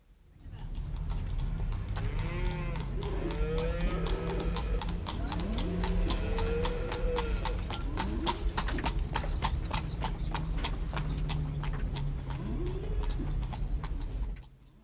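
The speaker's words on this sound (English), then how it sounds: "must utilize a horse and cart in order to get around to look at the material that they're thinking of buying" A horse pulling a cart at a cattle stockyard clops steadily and close-up from start to finish, with occasional animal calls and bird sounds mixed into the yard's background.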